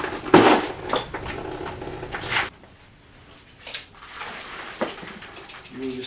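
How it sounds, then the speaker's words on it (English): Rinse water from a hose splashes off a mountain bike's front tire and spatters into a bucket below, a loud burst of spray that stops, then returns in shorter, softer splashes and drips. "you'll see most of the water falls right into the bucket"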